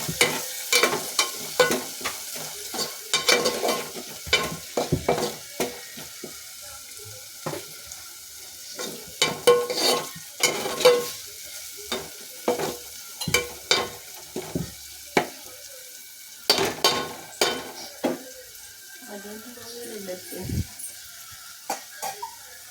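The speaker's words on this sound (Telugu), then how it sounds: "తర్వాత దాన్ని మొత్తం మిక్స్ చేసుకోవాలి బాగా" Turmeric is stirred into a curry in a pan, heard as repeated close scraping and clattering strokes in irregular bursts over a faint sizzle, with a few quieter pauses and no speech.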